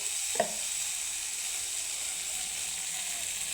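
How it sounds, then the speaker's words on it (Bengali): Poppy seed, mustard and green chili paste sizzling in a pan, an even high hiss that runs steadily after a single soft knock near the start, close and unaccompanied by talk. "পোস্ত, সরিষা, কাঁচা লঙ্কা পেস্ট, দিয়ে দেবো"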